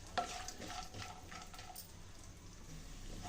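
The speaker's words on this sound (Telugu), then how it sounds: "నెయ్యి వేడి అయిన తర్వాత ఈ రెండింటిని వేసి రోస్ట్ చేసుకోవాలండి గోల్డెన్ బ్రౌన్ కలర్ వచ్చేంత వరకు రోస్ట్ చేసుకోవాలండి" Dry fruits roasting in hot ghee in a pan give off a quiet, steady sizzle with soft stirring scrapes throughout, faint and continuous with no talking.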